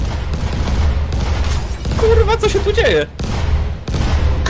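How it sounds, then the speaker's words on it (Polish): Fireworks burst in a video game, a rapid crackling and popping volley with whistling streaks over dense noise, while players talk excitedly over it. "O, kurwa, jakie fajerwerki tam są."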